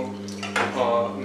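A spoon clinks and scrapes against a pan as paneer slices are stirred into a masala gravy: a couple of short metallic knocks and a brief rattling scrape, close and clear.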